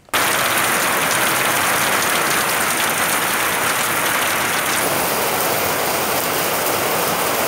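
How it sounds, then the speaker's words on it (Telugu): Rain mixed with hail falls in villages of Palnadu, Andhra Pradesh, a loud, steady, unbroken wash of hammering drops close by, with no one talking. "ప్రస్తుతం పల్నాడులోని కొన్ని గ్రామాల్లో మంచు వర్షం మరియు వర్షం కురుస్తోంది."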